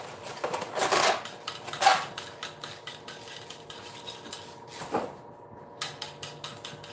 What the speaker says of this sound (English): So we're going to give all of this a mix.